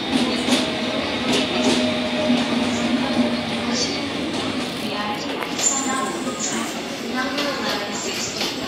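A Mugunghwa passenger train rolls into Seodaejeon station, with a steady loud rumble of wheels on rails, a sustained tonal whine and intermittent clicking and squeals, while voices talk faintly in the background.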